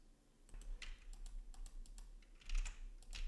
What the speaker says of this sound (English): I'm just trying to type anything, it won't work because this is a read only text field